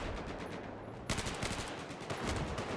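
Gunfire in Battlefield 4, a video game, with a steady rattle of automatic shots from a DMR nearby and a sharper burst of shots partway through, loud and continuous.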